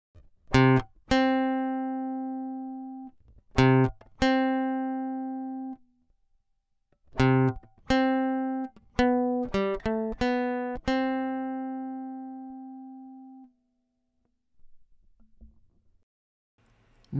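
Guitar picking C and the C an octave above, several times over with pauses between, clear ringing plucked notes alone and close, each left to sustain and decay.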